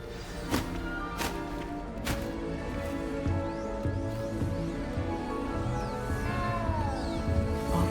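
A cat meowing in Hogwarts Legacy, with a few short clear meows early on over a continuous bed of game ambience and music.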